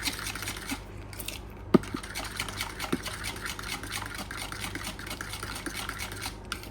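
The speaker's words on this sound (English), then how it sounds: "Give it a stir." Milk stirred into wet banana bread ingredients in a mixing bowl, with soft scraping and clinking of a utensil against the bowl and one sharper knock, no talking.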